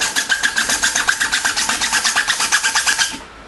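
A hacksaw cutting a part off an AR rifle close to its base, the workpiece braced on a leg, giving about twenty quick rhythmic rasping strokes, close and loud, then stopping.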